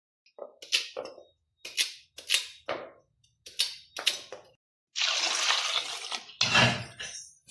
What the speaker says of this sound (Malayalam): ആദ്യം കപ്പ 2-3 പ്രാവശ്യം കഴുകി വൃത്തിയാക്കാം